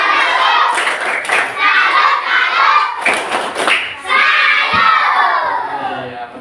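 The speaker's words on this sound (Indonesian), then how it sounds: "Ya, tepuk salut lagi." Schoolchildren perform the 'tepuk salut' clapping routine in a classroom, with loud bursts of rhythmic group claps and thumps alongside children shouting and chanting, separated by brief pauses.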